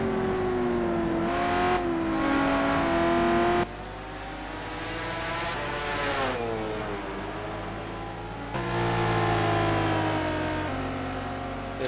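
Corvette and Lamborghini race car engines in a sim racing game drone and whine steadily, pitch rising and dropping through gear changes, with abrupt cuts between cars.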